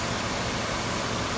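A 2011 Chevrolet Silverado Texas Edition with a 5.3-liter V8 running, a loud, steady, broadband engine drone with no pauses and no talk.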